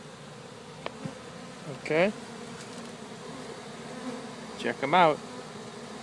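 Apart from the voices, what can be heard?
honeybees buzzing around their new hive after removal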